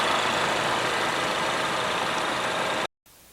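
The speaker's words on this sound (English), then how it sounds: "Under the hood is a 2-liter i4 engine." A Lincoln MKC's 2-liter four-cylinder engine idles steadily with a smooth, constant hum up close, then cuts off abruptly near the end.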